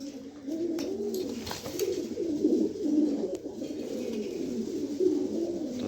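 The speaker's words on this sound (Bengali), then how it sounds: "খুব সুন্দর এক জোড়া কবুতর, দেখার মতো।" A fine pair of pigeons coos in a steady, low rolling murmur, close and continuous, with a few faint clicks and rustles in the background.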